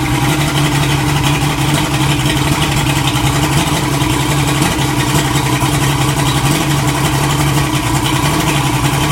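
A Mercury Black Max 175 hp outboard engine runs loud and close at steady high revs, a dense, unbroken roar with no voices.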